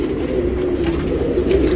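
H.M.T Rekdhar tournament pigeons coo in a steady, continuous low murmur, close and moderately loud throughout, with no talking.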